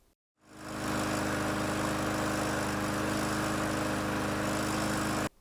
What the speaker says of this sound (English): So I tried it on the old lawnmower at the shop, and it immediately worked.